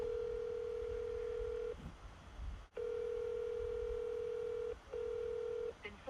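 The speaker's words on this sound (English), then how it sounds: "Let's call this number right here." A telephone call placed to a property owner's number, with a steady electronic ringback tone pulsing in long stretches with brief breaks, faint and thin, over a low background hum.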